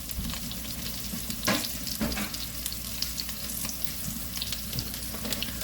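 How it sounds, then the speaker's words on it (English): Vegetables and mushrooms sauteing in butter in a pan, giving a steady close sizzle and frying hiss throughout, with a couple of brief louder stirring scrapes and clatters partway through. "We're going to saute these with some mushrooms."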